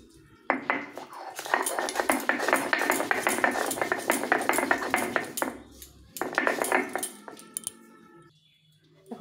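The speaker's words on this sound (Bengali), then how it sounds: "প্রথমে লঙ্কা দুটো বেটে নেব।" Two green chillies being ground on a stone, rapid rhythmic knocking and scraping strokes, close and fairly loud, in two bursts with a short pause between.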